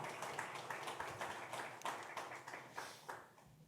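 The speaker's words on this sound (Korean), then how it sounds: "우리 다시 한번 뜨겁게 박수로 축복해 주시고 격려해 주시면 좋겠습니다" A church congregation at a Sunday afternoon service claps together in a brisk, fairly even burst of many hands, moderately close with no talk.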